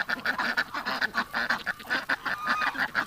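A flock of geese, including a gander, honks and cackles in rapid overlapping calls, a busy, fairly close chorus of repeated nasal honks with no talking.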